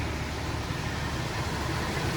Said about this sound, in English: it does seem to be idling a lot better